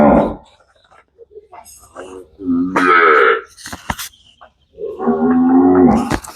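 A cow in a cattle shed moos several times, low drawn-out calls separated by short quiet gaps, fairly close and loud.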